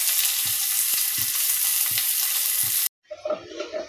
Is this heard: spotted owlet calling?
no